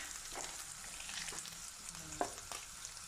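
Ground meat and onion fry in a pan for lasagna, a steady soft sizzle broken by scraping stir strokes and a sharp clink of the utensil, fairly quiet and without talk.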